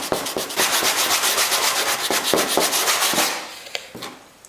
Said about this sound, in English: I'll blend it in with some finer sandpaper.